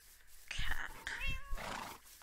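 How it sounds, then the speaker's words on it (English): A cat in the video game Minecraft meows twice in quick succession, fairly close and clear, with a muffled voice talking over it. "Cat."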